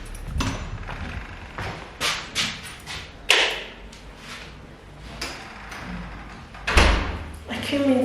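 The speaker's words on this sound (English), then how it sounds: "I came in through the back door." A back door at home opens and closes, giving a run of clicks, knocks and thuds, then a heavier thump near the end, with speech around the handling noises.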